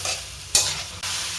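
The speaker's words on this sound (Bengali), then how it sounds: "এখন সুন্দর করে আলু আর লাউ শাক কষাই নিচ্ছি আমি" Potatoes and bottle gourd greens stems sauté in an oily pan, giving a steady hiss broken by a sharp stirring scrape midway and a louder burst of sizzle near the end.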